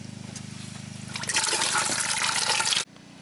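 Coolant pours out of a drained radiator on an ND Miata, a steady low hum underneath before a loud gushing, splashing rush builds and then cuts off abruptly near the end.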